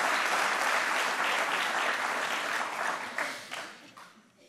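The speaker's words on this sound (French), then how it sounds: "Je vous propose de les applaudir." Full, dense applause from an audience at a graduation ceremony for families and teaching staff, loud and sustained before tapering off toward the end.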